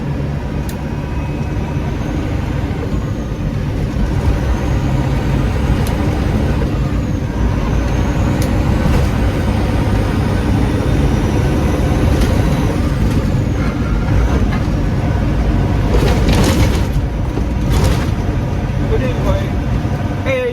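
A Classic XL truck drives along with its engine droning as a loud, constant low rumble throughout, while someone talks over it from inside the cab.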